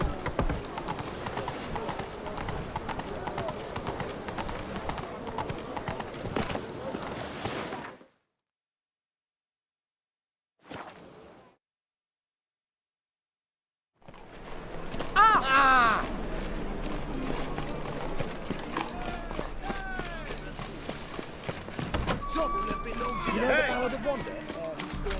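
Roach the horse gallops in Witcher 3, rapid clip-clop hoofbeats close and loud under game speech and effects, broken by a silent stretch before the galloping resumes.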